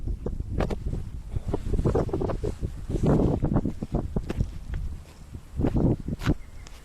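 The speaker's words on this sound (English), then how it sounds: "you got a lot of wind over here" Outdoors at a property with a big fence and garden, wind buffets the microphone in loud rumbling gusts alongside scattered rustles and knocks, with no clear talking.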